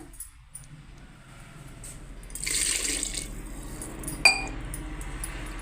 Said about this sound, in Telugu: ఇది వాటర్ పడుతుందండి మళ్ళా